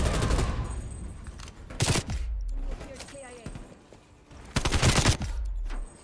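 Rapid bursts of automatic gunfire in a competitive video game match, loud sharp volleys around the two and five second marks with quieter shots and game effects between, heard over a busy in-game soundscape.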